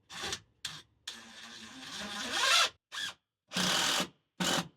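A power driver runs a screw into a pontoon corner bench seat in short whirring bursts, one longer rising run in the middle, close and fairly quiet with brief silences between pulls of the trigger.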